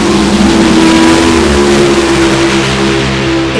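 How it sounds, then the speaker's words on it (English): A funny car drag racing engine at a dragway holds a loud, steady roar with a deep harmonic drone, a sustained rumble without pause for the whole stretch. "Let's see what Jeff Cameron has got for this Funny Car field"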